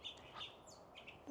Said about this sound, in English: I think you come here to listen to birds.